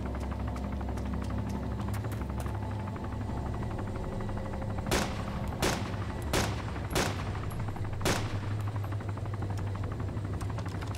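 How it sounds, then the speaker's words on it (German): Gunfire in the survival video game DayZ, a run of five or six sharp shots in loose succession, echoing slightly over a steady low ambient rumble, heard alone without talk. "Hast du auf uns geschossen?"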